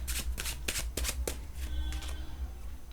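Tarot cards shuffled by hand, a rapid series of papery riffles and slaps in quick bursts, fairly soft and close, with no talk over them.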